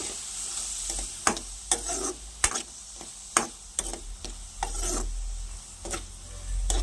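Soya chunks (meal maker) heating in hot oil in a pan, with a steady soft sizzle and repeated sharp scraping strokes of a spoon stirring them, close and fairly quiet, no voices.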